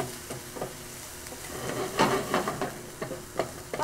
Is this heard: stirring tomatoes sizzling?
yes